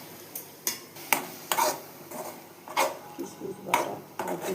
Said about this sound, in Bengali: এগুলোকে এখন ভালো করে একটু নেড়ে চেড়ে আমি ভেজে নেব আগে